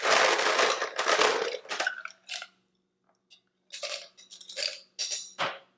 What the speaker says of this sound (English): So we're going to start with a little bit of ice poured into our glass right here.